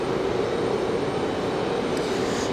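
A Southwest jet takes off from runway 23 left at Raleigh-Durham International, a loud, steady engine roar that holds constant throughout, with no voices.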